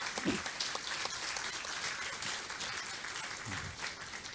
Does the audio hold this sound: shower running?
no